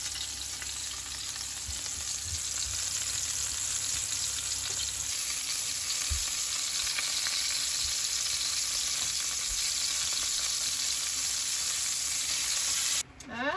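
Small trevally fish cakes, rolled with garlic, lemongrass, fish sauce and lime, fry in sesame oil with a steady, close, dense sizzle that runs unbroken, then a brief clatter near the end.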